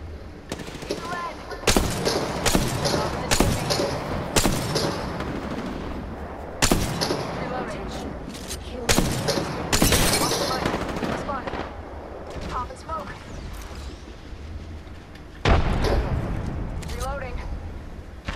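Gunfire in the Apex Legends video game, bursts of automatic fire and heavy single shots cracking loudly and irregularly amid a busy battle mix with game voice lines over the top.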